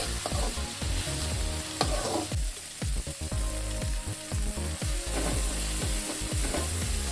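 Salted tomatoes fry in a pan until soft, a continuous sizzle broken by repeated stirring scrapes and knocks against the pan at a fairly even pace.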